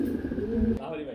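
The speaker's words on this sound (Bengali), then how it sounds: "এটা হচ্ছে রেড কালারের মধ্যে এক জোড়া লাহোরি কবুতর" A pair of red Lahori pigeons coo softly up close in a steady, low murmur that continues for about a second, with a brief break partway through.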